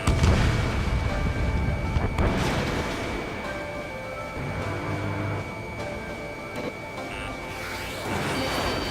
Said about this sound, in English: Strutter 1, missile launched.